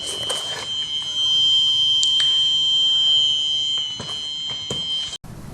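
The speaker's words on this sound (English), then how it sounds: "And alarm will beep long" A long, steady electronic alarm tone from an IoT door lock signalling a security breach, shrill and unbroken, sounds close by and holds for several seconds before cutting off abruptly.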